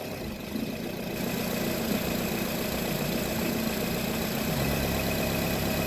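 A Nissan Cube engine idles rough with a cylinder 3 misfire, a steady close mechanical rumble with an uneven low-end chug that swells slightly toward the end, with no talk.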